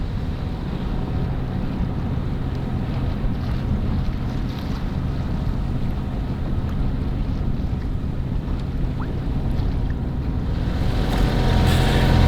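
A sailboat under motor along the Øresund coast, its steady engine drone and hull noise running continuously beneath gusting wind buffeting the microphone, with no one talking.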